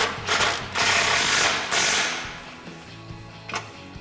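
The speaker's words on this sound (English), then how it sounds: "Grab a 12mm socket and tighten it down." Ratchet with a 12mm socket tightening a factory leveling-kit bolt on a Toyota Tacoma, a few bursts of clicking close by, then quieter single clicks toward the end, with no voices.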